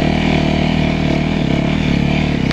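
A snow bike engine runs steadily on a snowy hill, a loud, close, droning motor hum with slight revving and no talk.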